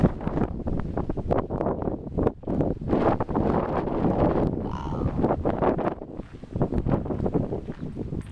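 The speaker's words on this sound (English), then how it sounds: "It is so windy" Strong gusting wind at a plant nursery in Desert Hot Springs, California, buffets the microphone with heavy rumbling bursts, while a voice briefly exclaims partway through.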